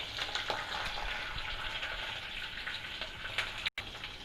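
Green chillies fry lightly in a pan with a continuous close crackle and soft spitting, a few stir scrapes rising above it, then a brief dropout near the end before the sizzle returns.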